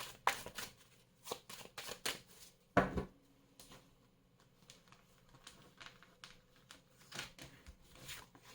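Tarot cards being shuffled by hand, a series of quick riffling and tapping bursts, one louder flurry near the middle, close with quiet gaps between.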